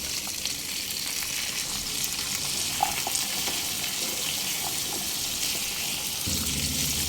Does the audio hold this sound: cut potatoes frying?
yes